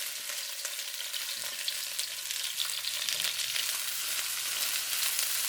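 Sliced onions and strip-cut carrots fry in a wok for a green bean and shiitake mushroom stir fry, giving a steady, close sizzle with faint stirring noises and a low hum underneath.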